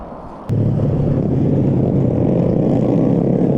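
Motorcycle passing along a quiet neighborhood road in Japan, a steady low engine drone that comes in abruptly and holds loud and close for several seconds.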